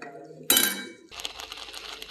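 Beetroot halwa stirred with milk in a pan on a gas stove: one bright metallic clink of a spoon against the pan is followed by soft, irregular scraping and stirring sounds.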